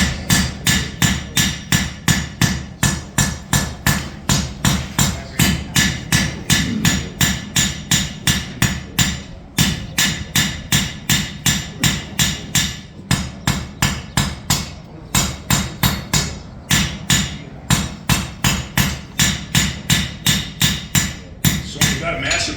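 A hammer beats hot metal on an anvil while a blacksmith forges a Dutch oven lid lifter, striking in fast, steady runs of ringing blows with short pauses between them.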